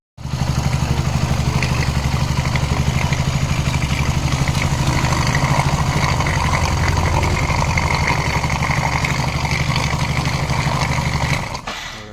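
BS6 motorcycle engine running after being fitted, a steady loud idle with an even low throb for about eleven seconds, cutting off abruptly at the end.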